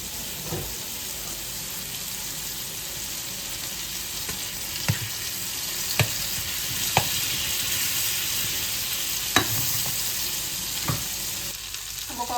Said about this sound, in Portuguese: vou colocar um pouco mais de manteiga pra fritar um pouco